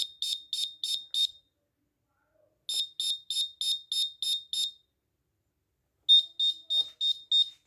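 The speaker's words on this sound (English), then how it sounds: "Ultrasonic water detected, alarm on." Shrill electronic buzzer alarm on an Arduino assistive blind stick, triggered by water detection, beeps in rapid bursts of four to seven, separated by short silences, loud and close with no voices.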